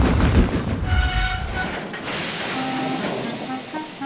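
A train rumbles along steadily, with clattering wheels and drawn-out whistle-like tones, the low rumble easing and the motion sounding more laboured toward the end.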